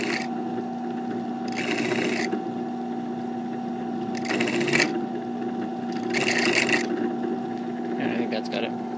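A drill bit cuts into a Berdan primer pocket of a cartridge case in short whirring bursts, four or five spaced grinding runs over a steady motor hum, close up.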